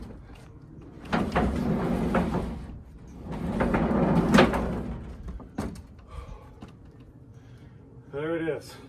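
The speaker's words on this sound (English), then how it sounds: "My new roller barn door." A roller barn door is rolled along its track in two long rumbling, scraping runs with a short pause between them. A voice is heard briefly near the end.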